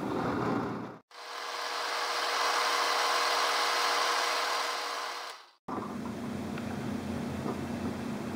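A power tool spinning at 3,150 RPM while cleaning a bullet for a necklace: a steady loud whirring buffing drone running about four and a half seconds, starting and stopping abruptly between quieter workshop noise.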